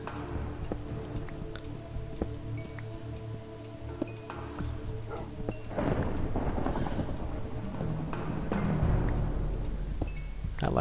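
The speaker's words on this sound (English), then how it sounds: "I like the ambience of the thunderstorm during hardcore." Thunderstorm ambience in a hardcore Minecraft world, with faint rain and low distant thunder rumbles swelling in the second half beneath quiet game sounds.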